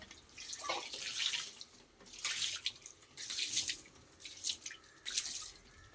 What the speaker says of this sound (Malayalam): എന്താ വെള്ളം ഇങ്ങനെ ഒഴിക്കണേ